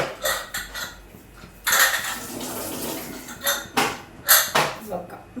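A pressure cooker is closed while cooking beef biryani, with loud metallic clanks and clatters of the lid and pot in irregular bursts, alongside kitchen handling noises and some speech.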